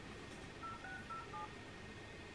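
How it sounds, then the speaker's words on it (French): A phone number is keyed in as a quick series of about four short DTMF beeps, faint over a steady background hiss, with no voices. "on va appeler le numéro de téléphone"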